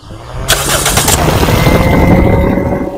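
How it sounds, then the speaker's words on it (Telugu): A 2008/09 Toyota Corolla Altis petrol engine cranks briefly on a single start with the AC off, a rapid rattling whir, then catches and runs at a steady loud idle that fills the rest of the clip. "సింగిల్ సెల్ఫ్లో కారు స్టార్ట్ అవుతుందా లేదా ఇంజన్ అనేది చూపిస్తాను"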